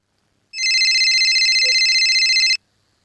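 A telephone rings while a call is placed to the CID, one continuous bright electronic ring about two seconds long, clear and close, starting and stopping abruptly in otherwise silent surroundings.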